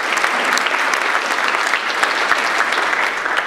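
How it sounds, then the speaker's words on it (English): A dinner crowd at a philanthropy award banquet applauds honored guests at the head table, a loud, steady wash of many hands clapping with no break. "Please give them a round of applause."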